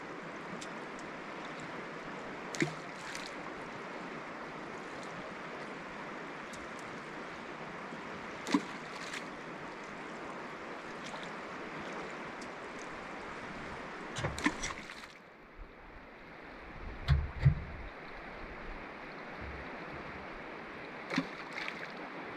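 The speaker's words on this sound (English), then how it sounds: "It's so nice to be down here by the river. I don't know if you can hear the water" Steady broadband rush of Alaska's Kenai River flowing runs throughout, with a few brief knocks and bumps near and a dip in the noise partway.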